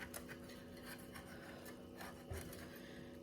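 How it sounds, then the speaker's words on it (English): Something scrapes down the sides of a mixing bowl with soft, repeated rubbing strokes, close and quiet, with no talk. "So what I'm doing now is just scraping the sides down"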